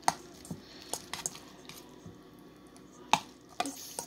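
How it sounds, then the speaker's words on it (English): Spicy noodles with hot sauce stirred in a bowl, producing soft wet scraping and clicking utensil taps at an irregular rhythm, close and fairly quiet, with no talking. "So now you just mix it up"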